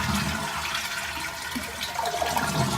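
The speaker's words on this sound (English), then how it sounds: "we're going to flush all the water out. So just hold down the handle until all the water goes out." Mansfield toilet flushing with its handle held down, a steady rushing, gurgling torrent of water draining from the tank throughout, loud and close with no voices.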